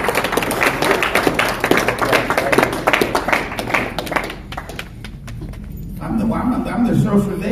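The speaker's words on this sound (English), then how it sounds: "Come on, give them a round of applause." Applause breaks out at a men's Christmas breakfast, a dense patter of clapping that fades after a few seconds while voices carry on talking.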